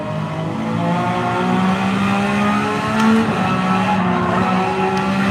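Race car engine held at full throttle around Mount Panorama in Gran Turismo 7, a loud steady multi-tone drone with a brief surge near the three-second mark and faint tire scrub, no talk.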